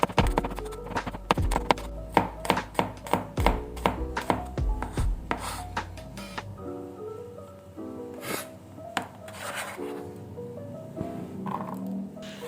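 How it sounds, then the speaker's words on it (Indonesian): A knife slices through shallots and garlic on a cutting board, a run of sharp, evenly spaced chops close up. Then come softer scraping and handling sounds, with a pan or utensil clatter and no talk. "aku tambahin bawang merah, bawang putih, aku iris biasa aja, nggak aku cincang untuk kali ini"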